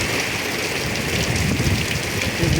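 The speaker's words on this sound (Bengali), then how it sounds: "বৃষ্টি এবং ঝড় হচ্ছে" Heavy rain pours during a storm, a dense, loud, unbroken hiss of drops striking surfaces close by, with no voices over it.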